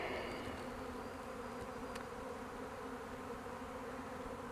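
Agitated honeybees from a caught swarm hum steadily in the air near a tree, a faint unbroken drone with occasional closer passes.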